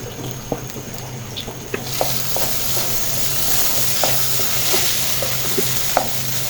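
Rice and lentils fry in a pan with salt, a constant low sizzle broken by repeated scrapes and clinks of the spatula as they are stirred, close by, with no voices.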